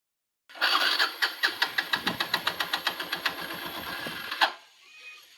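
A Honda Shine motorcycle engine cranks repeatedly without catching, giving a steady run of rhythmic starter pulses for a few seconds before cutting off, close and fairly loud with no talk over it.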